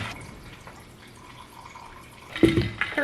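Water from a tap runs softly into a water bottle, a faint steady trickle that swells into a louder splashing fill near the end, close by with no talking.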